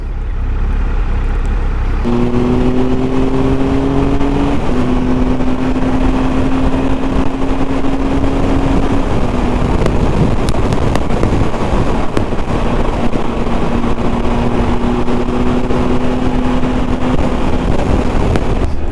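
Triumph Tiger 1200 XRT motorcycle (2019) riding at speed, its engine holding a steady droning tone that shifts pitch as it changes gear, with constant heavy wind rush over the microphone throughout and no talking.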